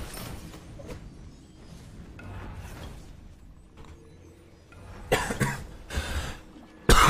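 Several harsh coughs come in a short burst near the end, close and fairly loud, after a stretch of quiet, muffled game noise.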